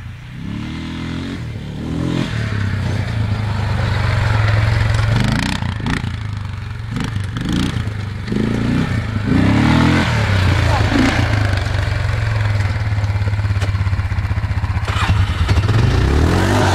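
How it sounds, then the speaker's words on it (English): ATV quad engine riding on a hill before a jump, revving and rising in pitch with clattering bursts, close and loud, with people talking over it. "He's gonna do a jump off the quad right on this hill."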